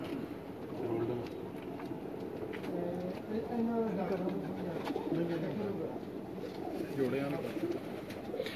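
Pigeons coo repeatedly inside a champion racing-pigeon loft in Dubai, soft low calls recurring through the clip over a steady background hum.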